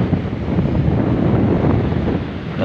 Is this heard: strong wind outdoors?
yes